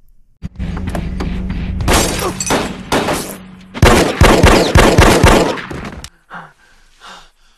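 Gunfire erupts in loud, rapid bursts with sharp cracks and breaking debris, separated by short pauses, then fades into quieter clatter; a scene from Breaking Bad.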